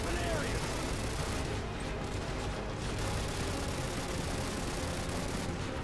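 Sustained gunfire from the Call of Duty Modern Warfare 2 video game, a loud, dense and continuous barrage of shots and blasts filling the whole stretch, with a voice talking underneath.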